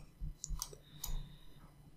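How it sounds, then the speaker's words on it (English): Computer mouse clicks during 3D modeling work, a few sharp, close, quiet clicks spaced irregularly over a faint steady background hum, with no talking. "lift some of them up by clicking, right-clicking Edit Form"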